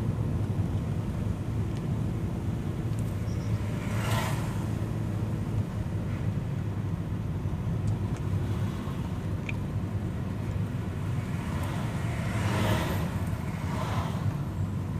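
An automatic car climbs a gentle uphill slope in D3, its engine giving a steady low hum with a constant road rumble and no speech.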